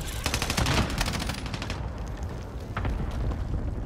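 Rapid automatic gunfire in Call of Duty: Warzone, a loud close burst of shots followed by quieter, more distant firing, with no talk over it.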